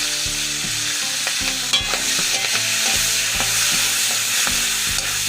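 Prawns crackle and sizzle in a pan of hot oil, with a constant hiss under repeated scraping and tapping as they are stirred. The frying is close and busy throughout, and nobody speaks.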